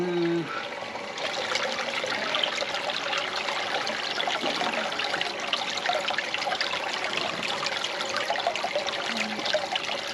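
Water trickles and streams steadily through a gold prospecting sluice, a continuous close splashing flow with a voice faintly present.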